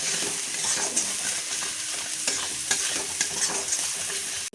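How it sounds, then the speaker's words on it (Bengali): Spice paste with salt and turmeric is stirred and fried in oil in a pan, giving a steady sizzle with repeated scraping strokes of the spoon, close and continuous with no talking. "এখন আর একটু সুন্দর করে কষিয়ে নেব আমি মশলাটা।"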